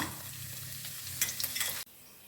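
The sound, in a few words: frying ginger, garlic and dried red chillies in oil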